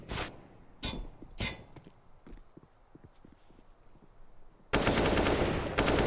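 Pistol gunfire in Counter-Strike: Global Offensive on the Nuke map, with Deagle and P250 shots. Several sharp, loud single shots come early, followed by softer clicks and steps, then a sustained loud burst of noise near the end.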